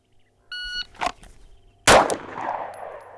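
A Glock pistol fires one sharp, loud shot at a range target after the electronic beep of a shot timer and some handling noise, and the report rings out and decays.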